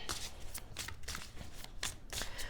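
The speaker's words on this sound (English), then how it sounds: "Just going to shuffle with a little more intention here." Tarot cards are shuffled in quick, repeated riffling bursts, close and crisp, with steady rhythmic flicks and no voice.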